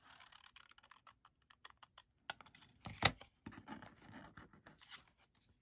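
Scissors cutting through leftover paper scraps for card making, a quiet series of short snips and crisp rustles that cluster into a denser burst near the middle, with no talking.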